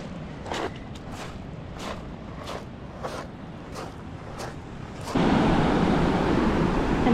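Ocean waves at a beach campsite in Olympic National Park make a steady broadband surf wash with a series of regular crunching footsteps, then a louder rush of surf or wind takes over; no speech.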